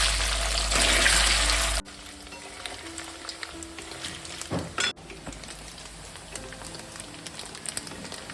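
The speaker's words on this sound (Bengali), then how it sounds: "এবার আমি পনিরটাকে ভেজে নেবো।" Paneer frying in mustard oil in a wok: a loud, dense sizzle for the first couple of seconds, then a quieter steady crackle with a brief burst of spattering midway.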